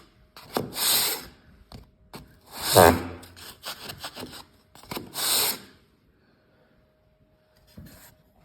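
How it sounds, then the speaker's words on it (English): Dried filler on a bedroom wall is sanded by hand in several close, raspy back-and-forth strokes with brief pauses between, then fades to near silence. "and now I'm gonna sand it."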